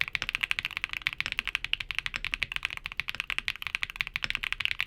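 Rapid, steady clacking of Besom Raspberry Cheesecake mechanical keyboard switches, a continuous flurry of close keystrokes with no voices.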